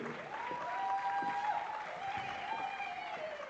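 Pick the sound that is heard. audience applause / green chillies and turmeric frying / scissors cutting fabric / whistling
audience applause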